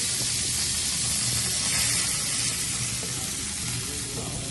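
Chopped onion frying in a generous amount of homemade butter for pav bhaji, giving a continuous soft, even sizzle and hiss that stays fairly quiet throughout, with no talking.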